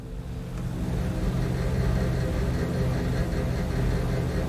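The piston engines of a PMDG DC-6 in a flight simulator roar at takeoff thrust, a dense, steady, loud drone that builds slightly at the start and then holds.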